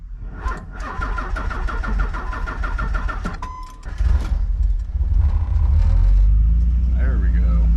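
A Nissan 300ZX turbo cranks with a rhythmic starter whir for several seconds, then catches and settles into a loud, deep idle close by, with a person talking early on.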